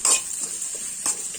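Garlic and vegetables sautéing in oil, a quiet steady sizzle with two quick stirring scrapes in the pan, close and brief.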